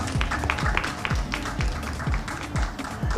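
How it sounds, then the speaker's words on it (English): A crowd at a nurses' and midwives' blood donation launch in Ghana claps steadily with a regular thumping beat, the applause loud and continuous throughout. "Let's clap for them."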